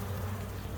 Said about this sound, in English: I'm gonna go ahead and get into that hive and do my inspection.